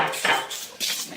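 Cheese scone dough being mixed in a bowl, giving a short run of scraping, clinking bowl-and-utensil sounds in a few close bursts, with no talking.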